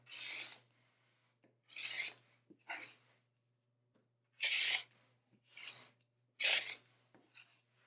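Rotary cutter strokes slice through quilt fabric along a ruler or trim block, giving about seven short, crisp rasping cuts with brief pauses between them, close up and with no talking.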